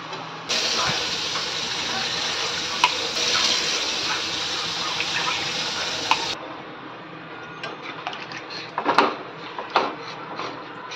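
Cold water poured into a pan of cooked-down spices while making chhanar kofta, a loud steady hiss and sizzle lasting about six seconds, then fading into quieter stirring and scraping noises.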